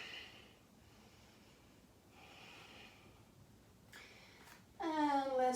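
Slow, audible breaths are drawn in and pushed out during a core workout on the mat, soft and close with a faint snort-like exhale, and a voice is heard briefly at the end.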